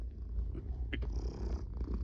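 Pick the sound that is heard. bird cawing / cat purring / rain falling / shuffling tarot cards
cat purring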